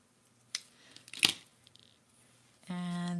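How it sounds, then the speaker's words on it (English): A single brisk snip of scissors cutting through a paper doll stands out near the middle, with faint handling clicks around it, before a steady tonal hum comes in at the end. "Okay, I am just going to cut this right off."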